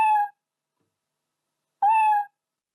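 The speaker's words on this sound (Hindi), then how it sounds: "बिल्ली म्याऊं म्याऊं करती है।" Two short cat meows, separated by a pause of about a second and a half, clear and close against silence.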